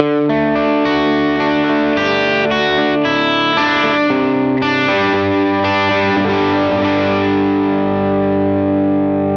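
A bassy, distorted electric guitar tone from a Line 6 POD Go, close-miked and full, with sustained chords ringing into one another and no talking.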